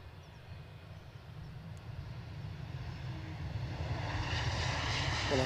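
An airliner lands at Edinburgh airport, its engine roar steady and distant at first, then swelling into a broad, rising rumble with a hissing upper wash as it nears.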